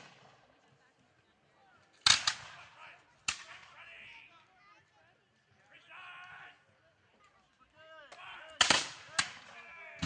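Musket volleys and artillery blasts ring out at a War of 1812 battle re-enactment, several sharp loud reports spaced across the scene with echoing tails, while someone narrates between the shots.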